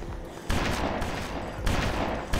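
Heavy automatic gunfire from a gun in BloodRayne roars in continuous loud bursts, with a brief lull in the middle before firing resumes.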